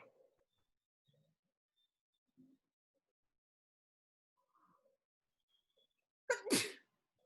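A single loud, close sneeze breaks a long stretch of near-silence indoors, with only faint scattered murmurs and small noises before it.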